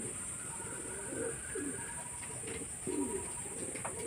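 Madras pigeons of an old home-kept line coo in a steady series of low, soft, rolling calls. Faint chirps and a constant high hiss sit behind them.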